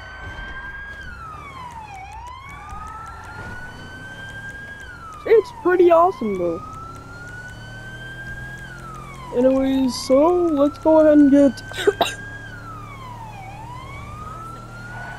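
A higher-pitched police siren from the video game GTA 5 wails in long rising and falling sweeps throughout, with someone talking briefly over it in two short bursts.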